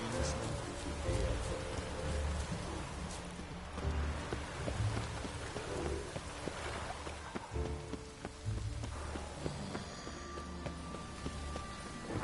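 Rain falling in The Witcher 3 game world, a continuous steady patter and hiss on surfaces with faint low rumbles in the background, a few soft footstep-like thuds, no voices.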